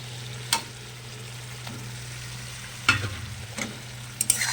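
Fried potatoes go into a spice paste for an aar fish curry, giving a faint steady sizzle in the pan with a few sharp stirring scrapes and clatters, close but quiet.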